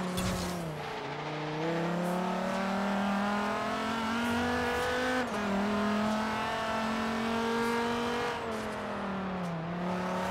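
A car driving in the game Forza Horizon 3, a steady loud engine drone with harmonic revs that rise and dip through gear changes, close and continuous throughout.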